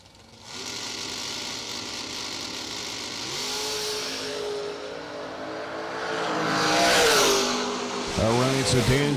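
Drag race cars at a racetrack rev and launch, engines droning and then climbing in pitch as they accelerate away. An announcer talks over the loud, steady engine noise.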